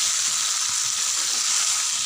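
Fish frying in a pan, steady broadband sizzle as water is poured in, loud and continuous throughout with no talk.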